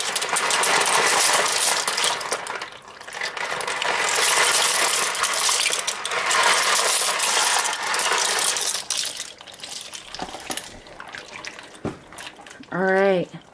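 Dry penne pasta poured from a box into a pot, a loud, steady rattling cascade of hard pieces lasting several seconds, followed by a few softer clatters and a brief voice at the end.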